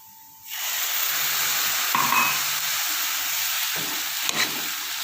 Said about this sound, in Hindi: अब मैं इसमें डालती हूँ आधा कप दूध।